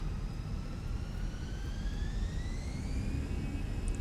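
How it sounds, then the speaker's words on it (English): Jet airliner engines spool up for takeoff in the X-Plane flight simulator with rain falling, a steady broadband roar under rising whining tones that climb slowly in pitch, with no talk over it. "Wow, these engines sound nice."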